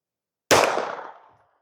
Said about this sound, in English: Let's get some first shots in